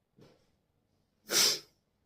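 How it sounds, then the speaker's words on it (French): A breathing exercise from guided Tibetan meditation: a soft, faint inhale, a quiet pause while the breath is held, then one sharp, forceful exhale through the mouth, close and noticeably louder than the intake. "on inspire tranquillement, on va bloquer pendant 3 secondes la respiration et ensuite on va expirer brusquement"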